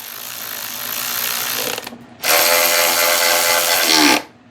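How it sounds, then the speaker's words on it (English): A power driver runs screws in to bolt down a part on an old Yamaha outboard motor: a steady mechanical whir, a short pause, then a second louder ratcheting burst that stops abruptly, heard up close with no talking. "Let's feed our screws in and bolt her down."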